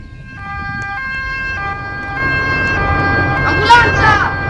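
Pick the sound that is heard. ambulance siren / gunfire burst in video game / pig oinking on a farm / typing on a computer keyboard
ambulance siren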